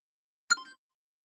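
Bell-style phone alarm ringtone: a single short bright chime, ringing briefly and then fading in otherwise silent surroundings.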